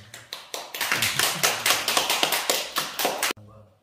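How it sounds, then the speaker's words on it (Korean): Church congregation at a Sunday service claps in unison to welcome a new member, a steady rhythmic series of about a dozen sharp, evenly spaced claps at moderate volume, ending suddenly. "이 시간 박수로 환영해 주시고"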